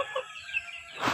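Chickens roaming near a river give a few short clucks, soft and fairly close, ending in a louder burst of noise.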